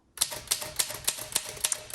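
A 1922 Underwood 3-12 manual typewriter typing in a steady rhythm, about nine crisp, loud keystrikes evenly spaced and close up, each a sharp metallic clack with no voice.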